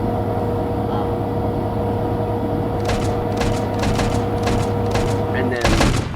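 Gunfire from a ship's weapons in the Stormworks video game, a cluster of rapid sharp shots over a steady low engine and water drone, with a louder burst near the end.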